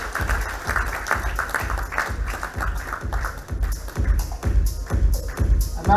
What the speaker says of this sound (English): Let's give her a louder round of applause, ladies and gentlemen